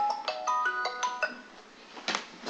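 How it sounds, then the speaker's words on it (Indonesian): A phone rings for an incoming call. Its ringtone plays a bright, close melodic tone pattern, with a run of quick notes followed by a pause and one more burst, and no one talks over it. "Bentar ya, ada telepon."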